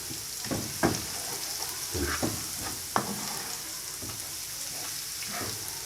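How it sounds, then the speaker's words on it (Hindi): Mutton karahi frying in a karahi pan, a steady close sizzle with intermittent scraping stir strokes and clinks of the spoon against the metal, no talking. "बस इसको थोड़ा सा सौते करना है।"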